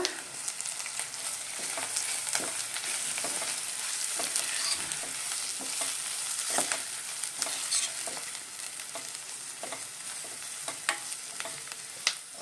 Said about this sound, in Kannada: ಸ್ವಲ್ಪ ಕಸೂರಿ ಮೇಥಿ ಇಷ್ಟು ಹಾಕ್ಕೊಂಡು ಫ್ರೈ ಮಾಡ್ಕೊಳ್ಳೋಣ